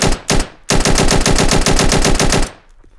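Rifle firing 7.62 NATO rounds in the VR shooter Virtual Warfighter: two quick single shots, then a sustained rapid burst of sharp evenly spaced reports for about two seconds, loud and close, ending in a short decaying tail.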